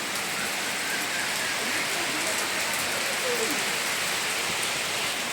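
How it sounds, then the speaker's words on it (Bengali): Steady rain falls from an overcast sky, a broad, even hiss of drops on surfaces that holds constant throughout, with no voices breaking through. "পুরো মেঘলা আকাশ, বৃষ্টি পড়ছে।"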